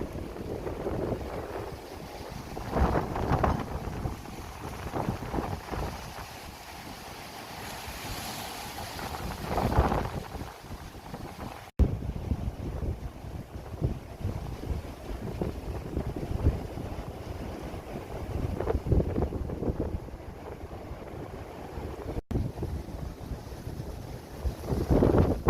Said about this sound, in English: that offshore breeze is nuts.